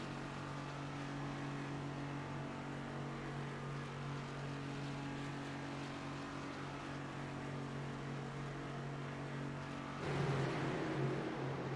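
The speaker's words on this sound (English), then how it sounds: "Pace car peels off the banking, goes down pit lane as we get ready to go back under the green flag." Race car engines drone in a steady, sustained hum behind the pace car at Michigan Speedway in a Next Gen racing video game, holding a constant tone before a louder, rougher burst of engine noise near the end.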